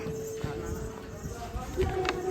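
Horses walk along the crowded Mata Vaishno Devi pilgrimage path with a steady clip-clop of hooves under constant nearby chatter and background commotion.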